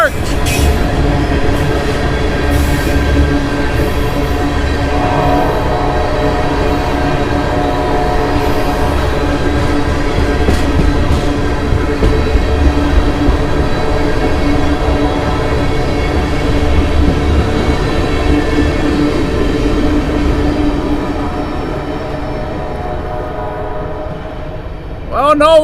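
A freight train hauled by a lone Canadian locomotive rolls past trackside between signals, a loud, steady rumble and clatter of wheels lasting throughout, with voices speaking over it and a brief sharper burst near the end.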